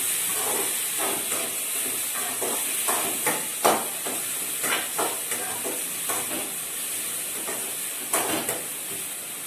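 Chopped onions sizzle and fry in a pan for South Indian drumstick sambar, a steady close hiss broken by soft stirring scrapes and a few louder clatters.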